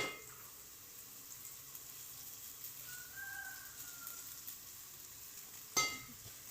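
Vegetable noodles sizzle and fry in a hot pan, a steady soft hiss throughout with a brief louder clatter near the end.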